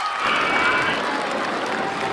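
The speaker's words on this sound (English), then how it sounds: "And look, they're all clapping." A video game crowd in Roller Coaster Tycoon applauding in a steady, dense wash of clapping with faint cheering mixed in, continuous for a couple of seconds.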